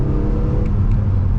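A BMW E46 M3 in sport mode gives a steady, loud engine drone with a raspy exhaust edge, held close and continuous throughout with no voices.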